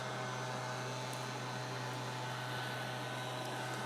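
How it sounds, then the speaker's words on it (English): A leaf blower drones steadily in the distance, a faint, unbroken whirring hum with no change in pitch. "The leaf blower is going to be churning away, so apologies for the noise from that"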